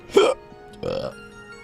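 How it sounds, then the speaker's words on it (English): Two short, separate burps sound close by, the first louder and sharper, the second a little longer and softer, with quiet pauses around them. "So many burps."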